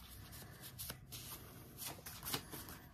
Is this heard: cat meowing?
no